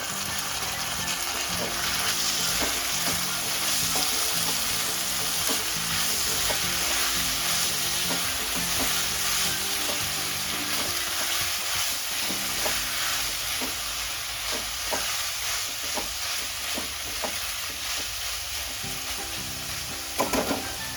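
Sprouted moth beans (matki) sautéing in oil, a loud continuous sizzle and hiss running throughout, with frequent scraping and stirring of a spatula in the pan and no speech.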